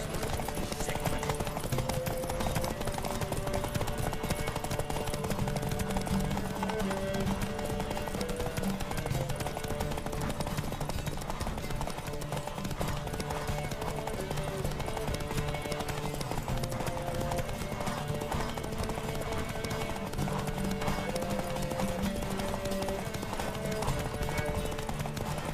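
Rhythmic hoofbeats of a galloping horse pound steadily throughout over a looping musical background, with occasional shouts, in The Witcher 3: Wild Hunt.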